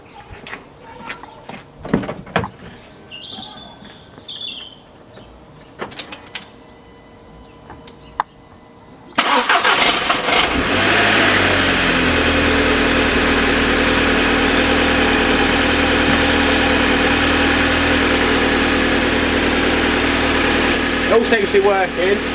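An Audi TT Mk2 (8J) fitted with a RamAir induction kit cranks and catches after a quiet stretch of small clicks and handling noises, then settles into a loud, steady close-up idle that holds to the end.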